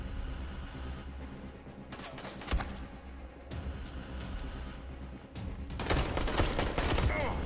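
Bursts of gunfire in the zombie video game Dying Light, rapid shots in clustered volleys with a loud stretch near the end, heard over steady game background noise.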